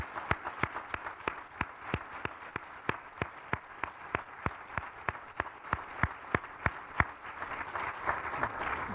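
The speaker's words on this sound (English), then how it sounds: "So let's all give Neil a round of applause" A forum audience breaks into a round of applause at an education event, distinct claps rising into steady, fairly dense clapping that continues for the whole stretch at moderate volume.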